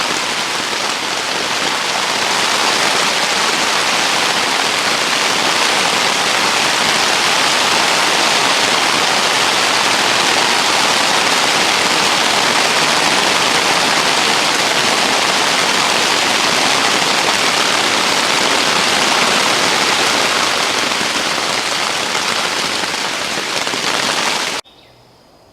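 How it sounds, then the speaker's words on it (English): Rain drums steadily on a tent at an off-grid homestead, a dense, loud, even hiss that holds for nearly the whole stretch before cutting off abruptly near the end. "Living in a tent when it's raining."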